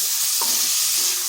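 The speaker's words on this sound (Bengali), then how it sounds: "এইভাবে নেড়ে চেড়ে হালকা একটু ভেজে নিতে হবে" Green beans being stir-fried in a pan, a loud continuous sizzle with a scrape or two of a spatula as they are tossed.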